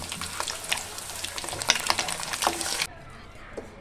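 Egg curry fries in oil in a pan with a dense, busy crackle and sizzle close by. The sound drops abruptly to a quieter hiss near the end.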